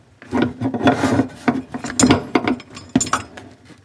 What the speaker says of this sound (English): you can tighten it up a little bit with the wrench